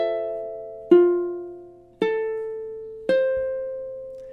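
Ukulele notes from a measure of a song ring out as three plucked attacks about a second apart, each decaying slowly, with no talking.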